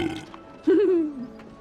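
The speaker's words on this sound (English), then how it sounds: "You hear like a burp" A single loud, drawn-out burp from a character in the Discworld video game, rising and then trailing off over about half a second, with faint game ambience around it.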